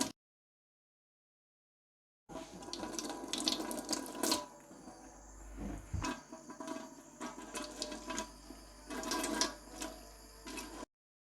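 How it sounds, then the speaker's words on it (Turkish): Tap water runs over a makeup brush being washed at a sink, a steady close splash with shifting gurgles as the brush moves under the stream, starting after a short silence. "Hemen yıkıyorum."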